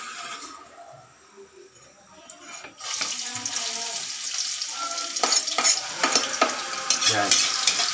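Ginger sautéing in a hot wok for pakbet sa gata, a soft hiss that swells loudly after a quiet start, with scraping stir strokes and clatter near the end.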